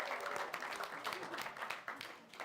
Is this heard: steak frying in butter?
no